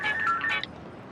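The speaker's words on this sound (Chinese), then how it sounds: "不用打了，电话来了。" A telephone rings indoors, a short electronic trill lasting about half a second that then cuts off into near silence.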